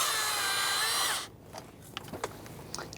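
A power tool spins steadily on thermostat housing bolts of a 2011-2021 Jeep Grand Cherokee, a loud whirring burst for about a second that stops abruptly, followed by faint clicks and handling noises.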